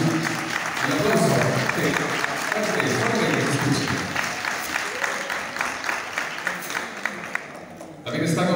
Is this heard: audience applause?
yes